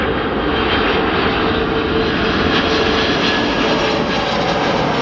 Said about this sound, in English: There's a massive jumbo jet coming in.